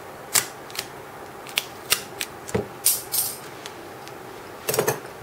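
Scissors cutting tape while a Tamiya Mini 4WD ball bearing is being smoothed, a scattering of sharp close snips and clicks at irregular intervals with quiet pauses between them and no talking.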